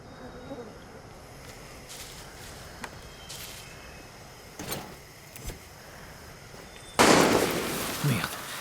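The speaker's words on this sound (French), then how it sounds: "Merde, qu'est-ce qui tire?" Gunfire in the video game Far Cry 6, a few scattered sharp shots early on followed by a louder, sustained burst near the end, heard at moderate distance with no talk over it.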